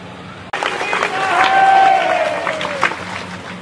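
A crowd at a public speech on religion claps and cheers loudly and steadily for about three seconds after a brief gap, with whistle-like tones and voices mixed into the applause.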